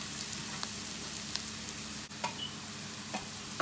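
Garlic and chillies sizzle in a pan with browning halal sausage, a steady quiet crackle with occasional small pops and light stirring scrapes.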